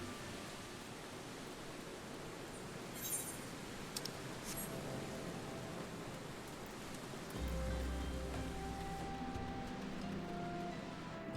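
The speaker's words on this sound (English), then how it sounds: "it's raining here again" Steady hiss of rain falls throughout in the video game Final Fantasy XIV, soft and even, with a low synthetic tone entering near the end.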